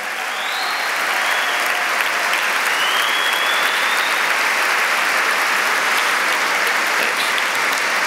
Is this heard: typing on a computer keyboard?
no